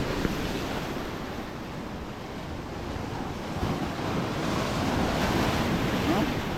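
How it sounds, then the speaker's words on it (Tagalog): Heavy surf crashing continuously with strong wind buffeting the microphone, a loud, rough wash of water filling the whole clip. "Laki ng alon mga tatay."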